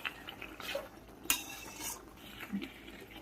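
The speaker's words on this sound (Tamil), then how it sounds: "இந்த அப்படியே கறக்கி எடுத்துருங்க" A spoon stirs chicken gravy in a pan, producing faint metallic scrapes and clinks at an irregular pace over a quiet, soft background sizzle.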